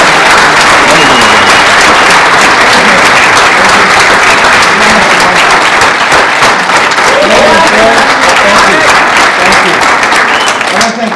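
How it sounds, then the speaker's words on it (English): A large crowd at a party AGM gives sustained, loud applause for the event organizers, thick continuous clapping filling the whole stretch, with voices and cheering mixed in underneath. "I really, really wanted to take a huge round of applause for Phil Hyde and Megan Wade"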